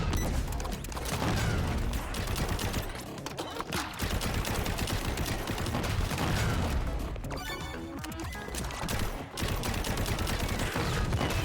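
Dense, continuous full-auto gunfire from a top-down looter shooter game, Relic Hunters Legend, rattling almost unbroken across the clip with crashes and effects layered in, loud and close with no clear voice on top.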